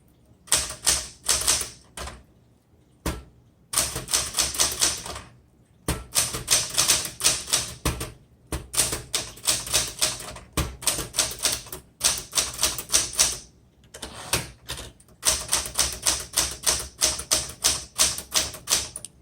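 A 1967 Smith Corona Super Sterling manual typewriter being typed on: close, loud bursts of sharp key strikes in quick uneven runs, broken by short pauses, with no talking.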